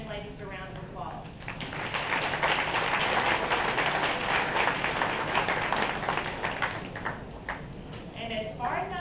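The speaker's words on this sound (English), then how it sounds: "Please give these young ladies a round of applause." A banquet hall crowd at a high school sports banquet applauds a dance team, with clapping swelling into a full, sustained round and then thinning out, while a voice carries over the start and end.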